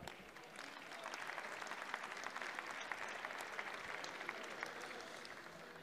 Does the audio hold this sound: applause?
yes